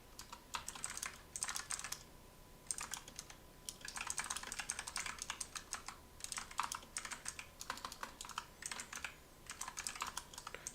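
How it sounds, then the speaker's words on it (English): Steady typing on a computer keyboard in a classroom lecture setting, bursts of quick clicky keystrokes with short pauses between, fairly quiet and close, with no talking. "I'll type a poll as we go."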